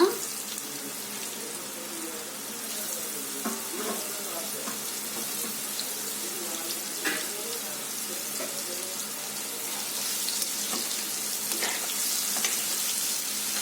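Steady sizzling of paneer frying in a pan, a continuous hiss with occasional crackles and light clinks, no voices.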